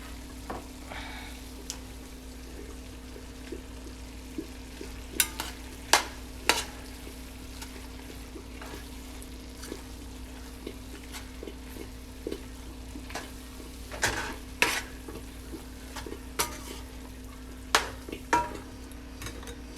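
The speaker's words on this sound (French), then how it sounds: "Là, j'ai bien tourné. Il faut bien tourner." Spinach sautéing in a pan with pistachios gives a steady low sizzle throughout, broken by scattered clicks and scrapes as a utensil stirs the leaves against the pan.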